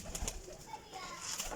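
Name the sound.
pigeon cooing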